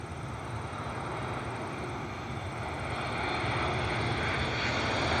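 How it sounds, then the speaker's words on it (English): Southwest Airlines Boeing 737 MAX 8 arriving from Las Vegas at Cleveland, its engine roar steady and broadband, swelling slightly louder toward the end as it draws nearer, with no voices. "Southwest Airlines Flight 2577 is another MAX 8 inbound from Las Vegas."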